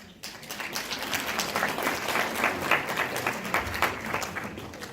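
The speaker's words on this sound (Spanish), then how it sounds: "Por favor, la recibamos con un fuerte aplauso." Steady audience applause welcoming a speaker at a software talk, a soft, continuous patter of many hands that starts abruptly and holds evenly, moderately distant.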